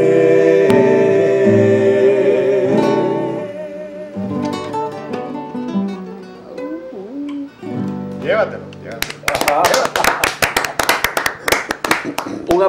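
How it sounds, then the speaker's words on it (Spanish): An audience claps after a live song by a musical group, a sharp scattered burst of hands arriving near the end, following sung melody and a spoken voice. "Un aplauso."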